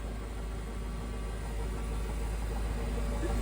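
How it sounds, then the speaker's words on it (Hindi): A Hungarian-made Csepel UF-222 heavy-duty universal milling machine runs its spindle at 600 RPM, giving a steady, even mechanical hum that stays constant throughout. "Currently the spindle RPM is at 600 RPM, and as we can hear, there is no noise at all in the gearbox or in the spindle."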